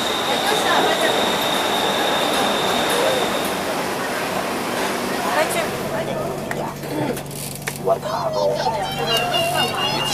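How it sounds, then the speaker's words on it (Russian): A Bangkok Skytrain pulls into an elevated station with rumbling wheels and a rising metallic squeal, while people talk nearby over the steady platform noise. "А вот и наш поезд."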